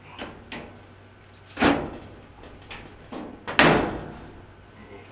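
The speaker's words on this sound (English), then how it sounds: "We will reconnect the door switch, close the top," The top panel of a Whirlpool dryer being closed during a repair, several hollow metallic thumps and two louder slams, close up, with a brief spoken word.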